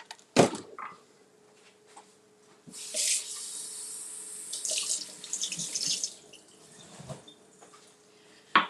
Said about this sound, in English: I'm gonna rinse them off.